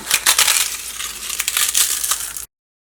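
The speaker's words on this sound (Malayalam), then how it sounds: "പപ്പടം പൊടിച്ചിട്ട് ചേർക്കാം" Fried papadum is crushed by hand, giving a close, brittle crackling and crunching that lasts about two and a half seconds before stopping abruptly.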